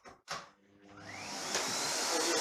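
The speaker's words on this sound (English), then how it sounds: "I'm also going to just start my hoover up as well" A Hoover vacuum cleaner starts up after a couple of brief knocks, its motor whine rising and then holding as a loud, steady roar close by, used while cutting ceramic tile.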